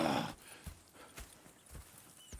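Horse hooves clip-clop in Red Dead Redemption 2, a few light, spaced hoof knocks heard close and fairly faint after a brief louder burst at the start.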